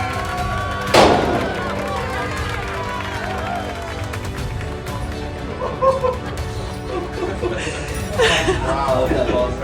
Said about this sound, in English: Gun's hot, go ahead and fire when ready.